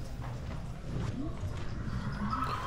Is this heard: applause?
no